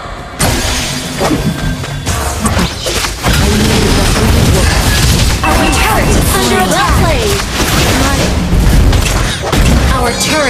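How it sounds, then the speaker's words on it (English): Turret destruction in a Mobile Legends match, a loud, dense stretch of booms, shattering crashes and battle effects that runs nearly continuously for about ten seconds, with voices mixed into the din. "Our turret has been destroyed."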